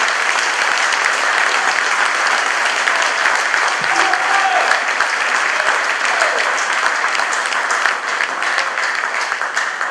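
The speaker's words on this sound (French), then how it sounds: "je applaudis en même temps, Serge et Michel Hubert" A political meeting audience in Martinique breaks into loud, sustained applause, a dense, continuous wash of many hands clapping close by for the full stretch.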